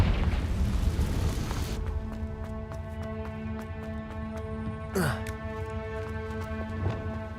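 The Confringo fire spell in Hogwarts Legacy bursts with a loud, roaring blast that fades after about two seconds into sustained game tones with a short whoosh later on.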